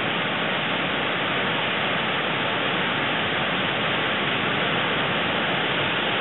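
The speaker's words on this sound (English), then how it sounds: "Right at the foot of this waterfall." Waterfall on Split Rock River during an October hike, a constant, loud rush of falling water heard up close, steady and unbroken with no voices.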